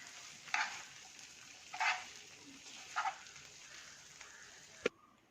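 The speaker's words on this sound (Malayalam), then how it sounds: "എന്നിട്ട് നന്നായിട്ട് ഇതെല്ലാം കൂടെ നന്നായിട്ടൊന്ന് മിക്സ് ചെയ്തെടുക്കാം" Egg noodle mixture with a pinch of salt being stirred and tossed in a bowl, three soft scraping swishes spaced about a second apart, faint and close, ending in a single sharp clink.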